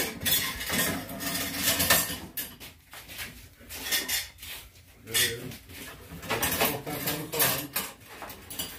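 Pots, pans and serving spoons clatter in a home kitchen while a roast chicken lunch is dished up, with irregular metallic clinks and knocks scattered through the clip under people talking.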